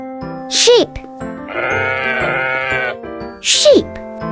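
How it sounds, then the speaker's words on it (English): Two sharp, wavering sheep bleats stand apart, one near the start and one near the end, with a steadier tonal sound sustained in between; no talking is heard. "Sheep."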